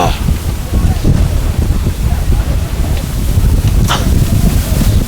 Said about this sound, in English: stiff headwind at this point